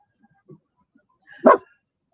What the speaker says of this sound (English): Well, dogs.